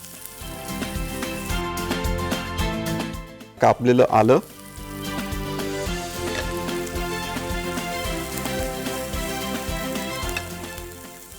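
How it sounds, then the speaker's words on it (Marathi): Cumin, fennel and green chili tempering in hot oil, with chopped ginger added: a busy, crackling sizzle throughout, interrupted midway by a brief burst of louder spattering, while someone talks over it. "फोडणीचा आवाज बघू शकता तुम्ही"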